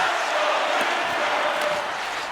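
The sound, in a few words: hockey arena crowd in video game NHL 25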